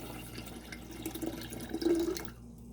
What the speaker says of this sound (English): I'm going to just fill this about up to here with water.